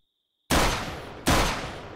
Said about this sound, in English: And he got shot by the cannon.